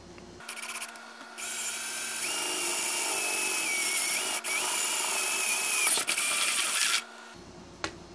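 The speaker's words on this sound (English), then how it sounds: "this is where I'm going to drill my buttonhole." A power drill with a 1/2 inch bit bores a buttonhole through a vertical pipe, a steady loud whining grind running for about seven seconds with shifting pitch, starting and stopping abruptly.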